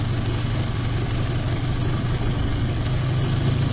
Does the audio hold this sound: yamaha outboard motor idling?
yes